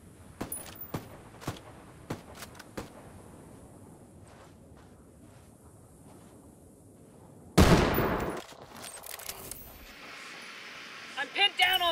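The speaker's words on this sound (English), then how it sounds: "Taking fire, taking fire!" Video game gunfire comes in several sharp bursts of shots early on, then a loud, dense burst of fire midway with continued crackling shots to the end, mixed with game sounds.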